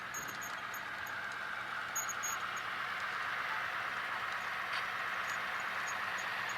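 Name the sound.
HO scale model mixed freight train running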